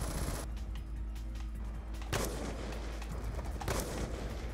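An RPG rocket launcher fires in Black Ops 2 gun game, two sharp blasts a couple of seconds apart over a steady low mechanical rumble, with no voice.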